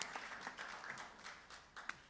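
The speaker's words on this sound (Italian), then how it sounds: "Continuiamo con l'applauso intanto che la accogliamo." Audience applause at a live Women's Day words-and-music event, a fairly faint, sustained patter of hands clapping with a few sharper claps near the end.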